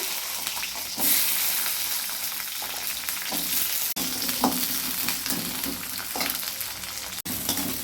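Mustard seeds and small shallots fry in oil for hotel-style idli sambar, with a steady close sizzle and crackle under a few soft stirring scrapes and two sharp clicks; nobody talks.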